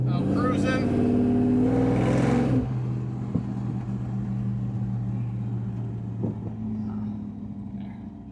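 A Chevrolet C30 square-body truck cruising with a steady, droning engine hum throughout. Voices are briefly audible over it at the start.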